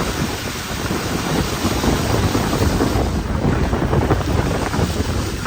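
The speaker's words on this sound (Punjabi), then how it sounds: "ਹਵਾ" Strong outdoor wind roars without a break, buffeting the microphone loudly near open water, with no voices.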